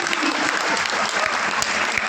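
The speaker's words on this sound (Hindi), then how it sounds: "जोरदार तालियां बजा दीजिए," Loud, steady applause from an audience at a Hindi kavi sammelan poetry gathering, filling the whole stretch without a break.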